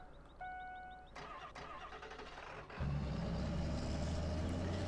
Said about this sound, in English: That definitely a Power Stroke start sound.